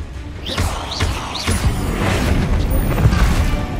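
A Confringo spell fired in Hogwarts Legacy: rising whooshes followed by booming blasts and rumbling impacts, loud and close, run together in a dense game mix.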